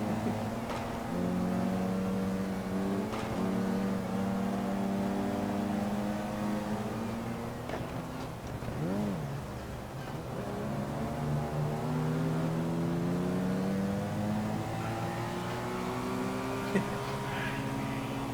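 Mini Cooper race cars in GT Legends, several engines droning and rising in pitch through gear changes, a steady nearby buzzing pack with a voice talking at times over it.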